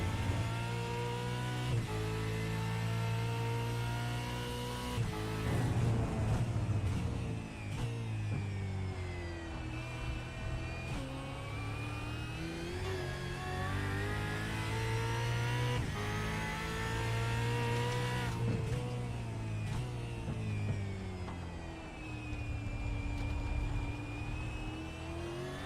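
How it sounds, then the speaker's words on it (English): Cockpit view of a V8 Supercar in iRacing, the engine droning loud and steady with rising revs, sharp gear changes and dips as it brakes and accelerates, continuous with no talking. "If we go for the cockpit, I'll just shut up and listen to this gear changes."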